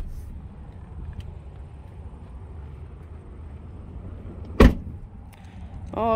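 Door lock on a 2016 Ram 1500 Rebel pickup actuated by its proximity-entry button: one sharp, loud mechanical click-thunk stands out over quiet ambience, followed moments later by the start of another actuation.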